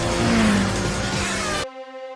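A race car engine revs hard in Gran Turismo on the Circuit de la Sarthe, a loud continuous roar with climbing pitch that cuts off abruptly near the end.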